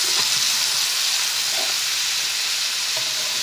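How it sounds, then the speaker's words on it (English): Rib tip meat sizzles on a hot skillet over seasoned onion, a loud, steady, close frying hiss with faint stirring touches underneath. "As you can see, it's cooking as soon as you put it on there."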